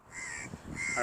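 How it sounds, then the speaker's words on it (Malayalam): A crow in Kuwait gives two quick, faint caws, one at the start and one near the end, against a quiet outdoor background with no one talking. "ആദ്യമായിട്ടുള്ള ഒരു കാക്കയുടെ സൗണ്ട് കേട്ടത് എനിക്കൊരു ആശ്ചര്യം തോന്നിയതാണല്ലോ"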